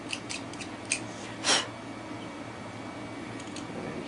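A carving knife slicing wood while carving a rolling pin, giving a few short scraping cuts, one stronger stroke standing out, over a steady background hiss.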